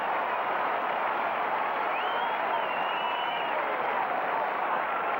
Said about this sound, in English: Seattle crowd responding to that big play by the defense